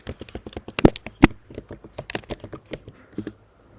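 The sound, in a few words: typing a command on a computer keyboard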